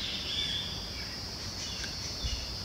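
Birds chirp faintly outdoors in a quiet natural setting, with a steady background of insect-like hiss and high chirping, no voices.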